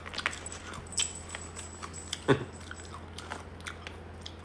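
Fried fish being bitten and chewed up close, a few soft crunches and wet chewing sounds with one sharper crunchy bite midway, quiet room otherwise and no talking.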